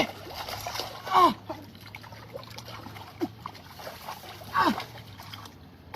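A large fish thrashes in water, throwing out two loud separate splashes among quieter trickling and dribbling, while excited voices shout over the commotion.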